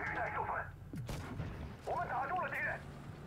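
In World of Tanks Blitz, a WZ-112-2 tank's main gun fires once with a sharp, loud boom near the middle of the clip. Game sounds with some tonal effects come before and after the shot.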